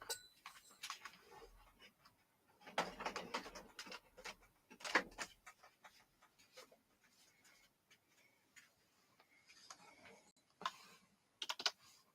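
Keys clatter on a corded USB computer keyboard, bursts of close, crisp typing alternating with pauses and scattered single clicks.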